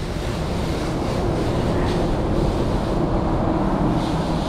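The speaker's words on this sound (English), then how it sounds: "this is that spot free rinse." Water sprays steadily onto a 50cc Boom scooter during a spot-free rinse, a dense, continuous hiss that stays loud and even from start to finish, with no one talking.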